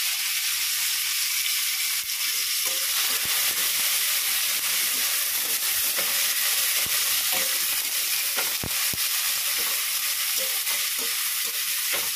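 Onions frying in a pan, a loud, unbroken sizzle and hiss with continual stirring scrapes throughout.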